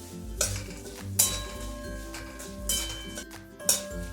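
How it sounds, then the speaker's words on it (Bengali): Fennel seeds fry in a pan with ginger as a spoon stirs them, giving several distinct clinks and scrapes of metal against the pan over a low steady sizzle, with no talking. "তো মৌরিটাও ভালোভাবে ভেজে নিচ্ছি।"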